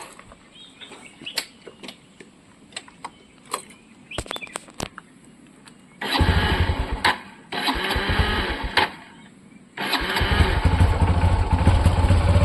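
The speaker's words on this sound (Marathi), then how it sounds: "आज भरपूर दिवसांनी तिला बाहेर काढले त्याच्यामुळे ती जरा चालू व्हायला मस्ती करते" A motorcycle left unused for many days is started at a Konkan home, its engine catching in rough loud bursts, cutting out twice and then running steadily, with earlier clicks and small knocks before it fires.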